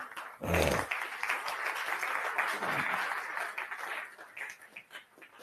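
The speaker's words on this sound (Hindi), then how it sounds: "अब ताली बजा दो भाई इसी बात पे" A group of people breaks into applause, a dense wash of clapping that swells after an opening voice, holds steady, then thins out toward the end.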